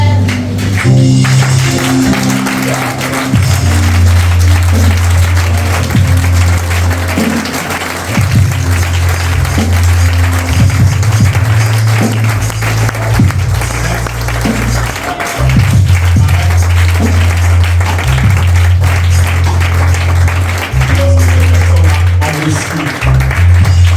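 Church congregation clapping and cheering in praise, a dense sustained applause with crowd voices, steady and loud throughout, over a low musical drone.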